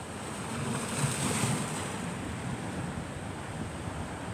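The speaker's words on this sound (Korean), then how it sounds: "파도도 좀 구경하면서" Sea waves break and wash on the beach at Menton in southern France. A steady, close roar of surf runs throughout, with some wind noise over the microphone.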